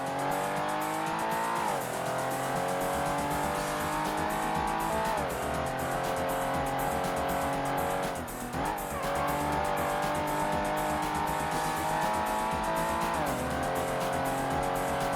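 Race car engine and tires in the PS1 video game Ford Racing during qualifying, a loud continuous engine whine that rises through gears and dips at each shift every few seconds, with tire squeal mixed in.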